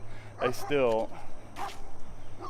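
Neighborhood dogs give a few short barks and yips nearby, with a brief whining yelp in between. A person talks over part of it.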